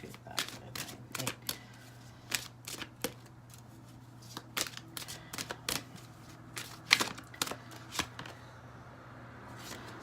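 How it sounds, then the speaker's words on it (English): A deck of Romance Angels oracle cards is shuffled by hand, a quick run of sharp, papery snaps and riffles in uneven bursts, close up, across a faint steady hum. "Let me give it a shuffle."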